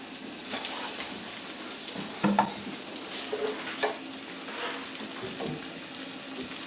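Sausages frying in a pan for a Cajun shrimp and sausage Alfredo pasta, a steady close sizzle and crackle with a few louder spits and pops partway through, no talking.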